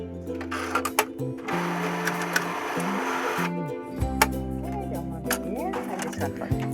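A coin-operated souvenir machine in Monaco whirs and clunks mechanically as it takes money, with sharp clicks and a shifting motor tone nearby while voices talk and a faint melodic tone sounds in the background.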